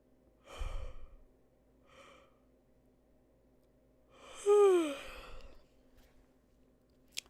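A person yawns once, a long breathy exhale rising into a drawn-out, wavering voiced tone, preceded by a couple of quieter breaths, close and alone over a faint steady hum.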